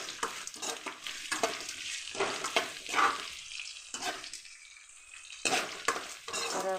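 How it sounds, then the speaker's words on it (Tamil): Curry leaves with chana dal and urad dal sauté in hot oil for beetroot poriyal, giving a soft crackling sizzle broken by several spoon scrapes and stirs against the pan. "இது கொஞ்சம் நல்லா ப்ரௌனாக ஆகிற வரைக்கும் வதக்கணும்"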